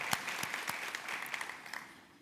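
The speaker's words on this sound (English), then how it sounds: "Let's give them a round of applause." An audience at a city State of the City address gives a short round of scattered applause, a light, sparse clapping that fades toward the end.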